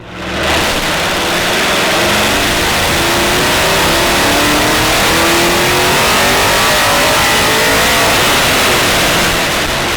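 A car engine, a 454 LSX V8 in a GTO running without exhaust, revs up loudly and climbs steadily in pitch, a raw, throaty roar close by that holds high before easing slightly.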